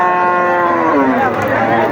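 A loud, sustained cow moo with a falling pitch in the middle, close by at the Saat Mile cattle market, over a steady background murmur.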